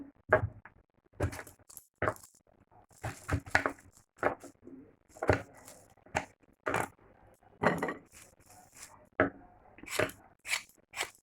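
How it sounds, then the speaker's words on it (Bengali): A knife cuts through pointed gourds (potol) in a series of crisp, irregular chops and slices, close and clear with short pauses between strokes. "সব কটা পটলকে এরকম করে কেটে নেবো"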